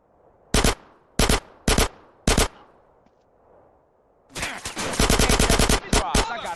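Video game gunfire in GTA San Andreas Remastered: a few separate loud shots spaced apart, then a rapid burst of automatic fire with quick repeated bangs, close and dominant with no talk over it.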